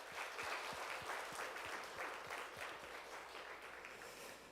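A church congregation at a Friday evening worship service claps together in a warm, steady round, with a faint rhythmic unison beat running through the dense, moderately loud applause.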